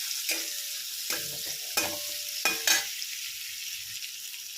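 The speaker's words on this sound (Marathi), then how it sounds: "आपण आता ठेचून घेतलेला लसूण टाकून घेणार आहोत. तर आपण हे छान असं परतून घेऊया." Crushed garlic sautés in a pan, a soft sizzle broken by several distinct scraping stirs of a spatula, close and clear with no talking.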